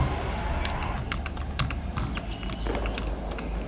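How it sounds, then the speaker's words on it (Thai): Computer keyboard keys clatter in quick, uneven bursts of presses while playing The Spike Cross volleyball video game, close and steady with a low background hum. "เมื่อกี้กดแล้วไม่ติดเหรอหรือคีย์บอร์ดกูพัง"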